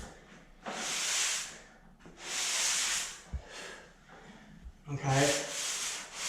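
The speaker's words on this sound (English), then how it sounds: "I always go around with a sanding sponge, and the grit is fine" A fine-grit sanding sponge is rubbed across a ceiling during popcorn ceiling removal, making three long, breathy scrubbing passes separated by short pauses, close and fairly soft, with a few faint knocks in between.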